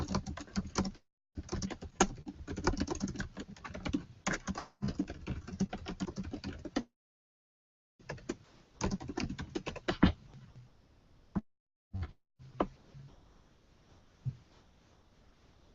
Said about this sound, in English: Now you guys get to watch me type for a couple of seconds while I write out this question.